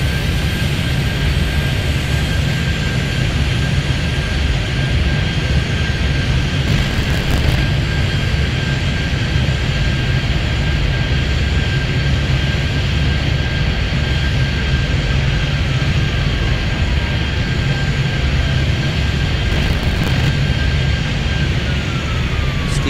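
Airplanes taking off and landing at a busy airport in the game Airport Madness, heard as a loud, constant jet engine roar with a steady whine that holds throughout and fades slightly near the end.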